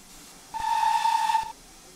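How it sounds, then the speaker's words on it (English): A GWR pannier tank steam locomotive, number 6412, in Train Simulator 2020 on the South Devon Railway, sounds one steady whistle blast of about a second. A soft background hiss runs before and after it. "So bring the whistle."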